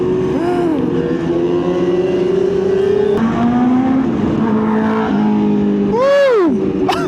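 Motorcycle exhausts on a ride toward Tagaytay Highlands, alongside a KTM SMC-R 390, drone loudly and close, with engine pitch rising and falling through revs and one sharp rev-and-drop near the end.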